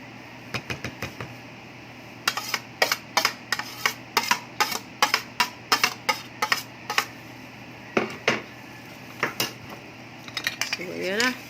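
A large mixing spoon stirs buko salad in a dish, giving a long series of sharp clinks and scrapes against the bowl in an irregular rhythm, close and fairly clear over faint background hum.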